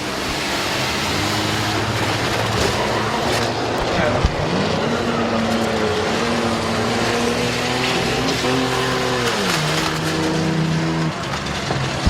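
Race cars roar around Midvale Speedway during a trailer race, with steady loud engine drone and rising and falling revs as they work through the final corners, with an announcer talking over the noise.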